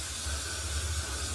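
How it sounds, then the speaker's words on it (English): Aerosol hairspray sprayed in a steady, continuous hiss that stays even and fairly close throughout, with no talking over it. "I have to hold my breath as well when I spray my hair."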